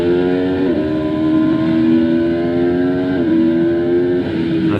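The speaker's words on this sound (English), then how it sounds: "You can hear the bike labouring." Motorcycle engine labouring on the Donington Park GP track, a steady loud drone held at near-constant revs with small pitch steps, continuous for the whole stretch with no talk.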